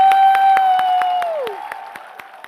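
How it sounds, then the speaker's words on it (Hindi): An audience at a Hindi poetry event claps, with sparse rhythmic claps under a sustained tonal sound that bends downward and fades, leaving scattered claps trailing off. "तालियां बजाइए"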